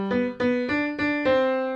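A piano plays the opening melody of a song starting one note too low, five clear struck notes in a slow even rhythm, each ringing into the next, close and alone with no talk.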